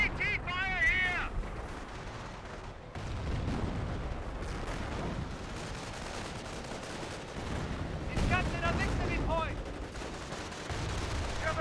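Anti-tank guns boom repeatedly in the Company of Heroes 1 game, heavy shots rolling amid battle din of gunfire, with a voice talking over parts of it.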